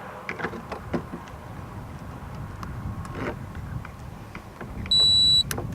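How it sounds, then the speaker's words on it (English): A keyless RV door lock gives a short electronic beep once its cable is plugged in, a single clear tone near the end over faint handling clatter and room noise. "So it says we should listen for a beep whenever we plug this in."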